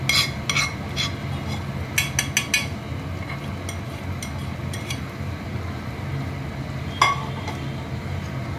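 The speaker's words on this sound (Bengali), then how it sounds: "ঝোলের মধ্যে মশলাগুলো ভালো করে মিশিয়ে দিচ্ছি।" Ground roasted cumin and poppy seed is stirred into a simmering fish curry, with scattered clinks and scrapes of a spoon against the pot over a low bubbling background, sharp taps clustering early and one louder clink near the end.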